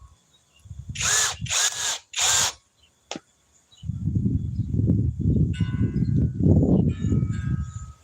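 A power drill whirs in three short high-pitched bursts, then a lower, steady grinding runs on as it bores into wood, close by.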